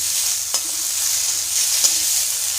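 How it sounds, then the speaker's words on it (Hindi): Cauliflower and potatoes fry in a wok with spices. A steady, close sizzle is broken by a couple of brief scraping stirs, and no one speaks. "हमारे गोभी और ये आलू करीब करीब फ्राई हो गए हैं"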